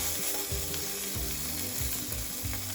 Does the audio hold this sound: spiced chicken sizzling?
yes